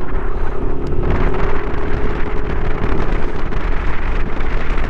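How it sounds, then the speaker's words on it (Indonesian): Strong wind buffets the microphone outdoors, a steady roaring rumble that holds loud throughout with no talk over it. "Anginnya cukup kencang sekali ya teman-teman di sini."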